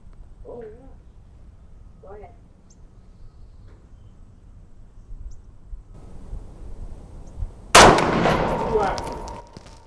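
A single sharp, loud shot from an ArmaLite AR-180 rifle cracks out near the end, with a ringing decay, after several seconds of faint, quiet talking and low background noise.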